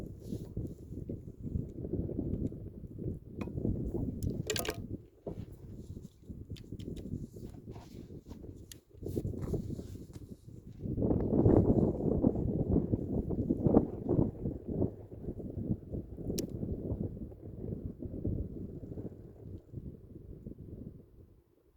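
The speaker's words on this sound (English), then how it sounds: "Got a lot of wind today." Strong, gusting wind buffets the microphone at an outdoor shooting range, a continuous low rumble that swells and surges around the midpoint, with brief rustling and no talking.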